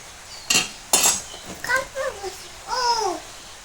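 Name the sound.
cutting a sweet gourd on the veranda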